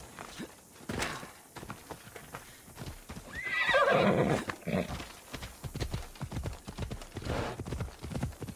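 A horse in the Assassin's Creed Odyssey video game clip-clops steadily at close range throughout, with a loud, drawn-out whinny rising over the hoofbeats midway before the trotting carries on.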